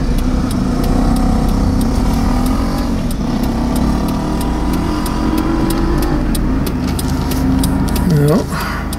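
A car travels the winding Gebbies Pass road above the harbour on a sunny day, its engine and tyre noise a steady, loud drone throughout, with a brief rising engine tone near the end.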